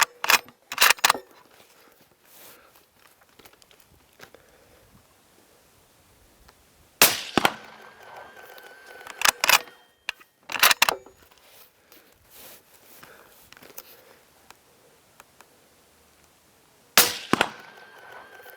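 Rifle shots fired at a target with Accurate 2230 propellant loads ring out as sharp, loud single cracks, about five spaced several seconds apart, with quiet range pauses between them.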